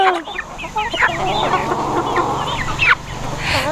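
Buff Orpington chicks about eight weeks old, hatched in an incubator, cluck and peep continuously in a busy chorus close by, with overlapping chirps and a few louder calls.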